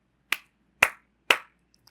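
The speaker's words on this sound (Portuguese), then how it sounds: "A contagem dessas sílabas usando um barulho, usando palmas" Three single hand claps, evenly spaced and crisp, marking the syllables of a word during a learning-difficulties lesson, heard alone in a quiet room.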